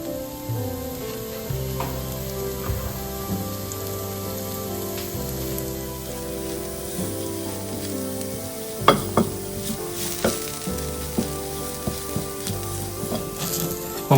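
Dosa batter sizzles with oil on a hot pan, a steady crackling hiss with scattered sharp pops, close and continuous throughout, no voices.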